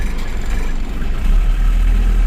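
A truck engine runs with a loud, close, steady low rumble that swells slightly partway through while the driver works the gears, with no talk.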